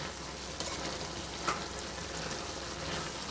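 Cluster bean curry with tomato cooking over high flame in a pan, with a steady soft sizzle and a couple of faint scrapes from stirring.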